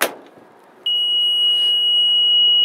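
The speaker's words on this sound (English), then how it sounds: "Now we're going to put it into the open position and it's going to throw an alarm." An electrical panel alarm goes off after a breaker is opened during a breaker test at a retirement residence. A sharp click is followed by a steady, loud, high-pitched electronic tone that continues without a break.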